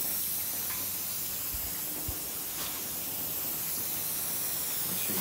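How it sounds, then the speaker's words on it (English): An aerosol can of 3M spray adhesive hisses in a continuous, steady spray close by for several seconds, applied while gluing felt to a pool table rail. "we're gonna take some spray 3M adhesive, give it a quick shake and a quick spray."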